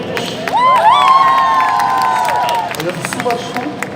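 At a concert at Made In Asia 2019, the audience cheers loudly, with a sustained shouted vocal note over scattered clapping, then tapers to lighter applause.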